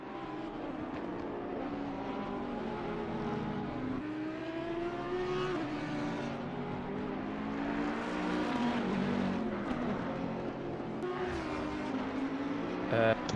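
A Ferrari race car engine in a sim racing GT series at Spa, roaring steadily as it passes with shifting pitch, heard under continuous commentary voices.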